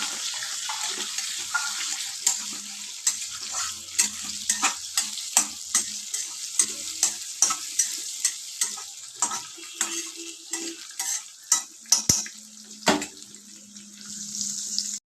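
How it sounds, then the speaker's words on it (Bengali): Potatoes and green peas frying in a wok, a steady hiss of oil under repeated sharp scraping and knocking strokes of a spatula against the metal, close and fairly loud, no voices. "আমি কড়াইশুঁটিগুলোকেও দিয়ে দিয়েছি, বেশ আলুর সঙ্গে ভালো করে ভেজে নিচ্ছি"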